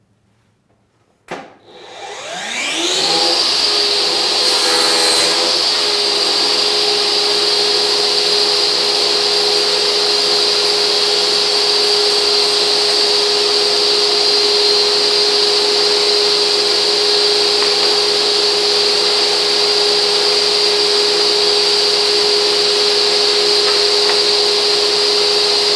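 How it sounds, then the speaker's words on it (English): A Metabo TS 36-18 LTX BL 254 cordless table saw spins up and then runs at a loud, steady high-pitched whine throughout while cutting with the miter fence, with a brief rougher burst early on and no talk. "Now let's do 2 cuts using the miter fence."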